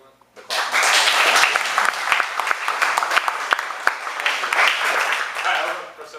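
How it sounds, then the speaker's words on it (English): A crowd breaks into steady applause that starts abruptly, holds dense and even for several seconds, then tapers off at the end. "do the clap thing now if you want."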